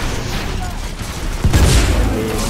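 Semi-auto fire cannon firing in the video game Titanfall 2, a burst of heavy booming shots landing midway through over a dense, continuous layer of game noise.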